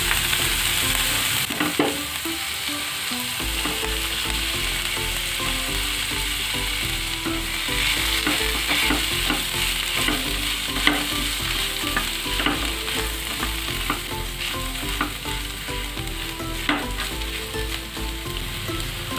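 Boiled potatoes and peas fry in a pan for a snack recipe, giving a loud, continuous sizzle. Scraping stirs recur throughout, and no one speaks.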